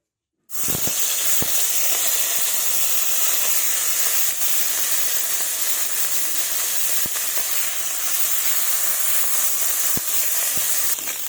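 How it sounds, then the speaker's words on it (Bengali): Fish drop into hot mustard oil in a wok and set off a sudden loud sizzle that stays steady and hissing, with a few sharp pops. "তেল গরম হয়ে গেছে, এবার মাছগুলো ছেড়ে দেব।"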